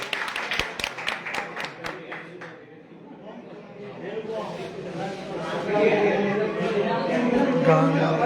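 Applause at a cricket league mega player auction: a quick run of sharp claps rings out first, then fades into a busy murmur of crowd chatter and talking voices.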